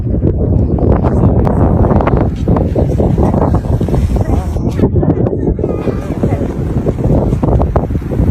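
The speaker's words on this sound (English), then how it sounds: "September 22, furious winds." Furious typhoon winds with level 11 gusts roar constantly and loudly, buffeting the microphone with dense, surging gusts and crashing turbulence.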